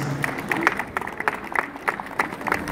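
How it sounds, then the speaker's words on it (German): Scattered clapping and crowd noise from spectators at an electric trial motorcycle demonstration as a young rider on an Oset bike balances on a bridge obstacle; sharp claps arrive in loose bursts at moderate distance. "kriegt den Applaus"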